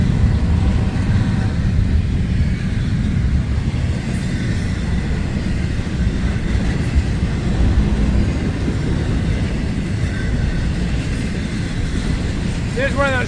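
A long freight train of empty containers and trailers rumbles steadily past close by in Saint Augustine, with continuous low wheel roar and occasional squeals and clanks, plus faint talking.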